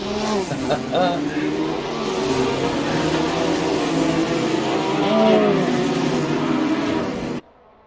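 A field of race cars, Porsche and Mazda among them, surges away on the first lap in Assetto Corsa, a dense layered engine roar with rising revs, while a commentator talks over it before it cuts off abruptly.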